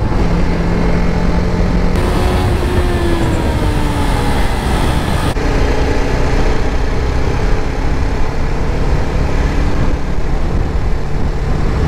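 A TVS Apache 310 motorcycle rides along a ring road. Its engine drone rises and falls beneath heavy, constant wind and road rush, loud and close throughout.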